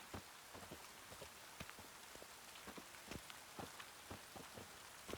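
Rain falling in The Witcher 3, a steady soft hiss of rainfall with scattered distinct drop impacts on surfaces, faint and continuous.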